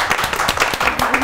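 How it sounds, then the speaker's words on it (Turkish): A studio audience at a quiz-style game show claps for the competing teams, a short burst of brisk, close applause. "Her iki komanda bir sola doğru cevap verip alkışlayak komandalarımıza."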